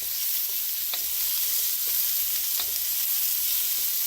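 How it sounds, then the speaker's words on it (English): Asparagus stir-frying in basil butter in a pan, a steady bright sizzle with a few soft clinks of stirring, continuous and close with no talk. "stir fry that a little bit before we add our onion to it."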